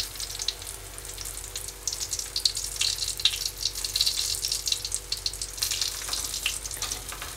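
Hot oil sizzles and crackles steadily around a whole red tilapia being deep-fried until crisp, a bright, even hiss with small popping bursts, close up and with no talking.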